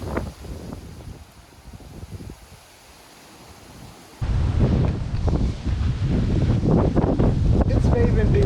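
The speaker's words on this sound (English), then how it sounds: "It's very windy now and the wind is going opposite our direction" Strong wind on a hiking trail in the Box Hill area of England. A fairly quiet rustle turns suddenly into a loud, gusty roar that buffets the microphone and keeps going.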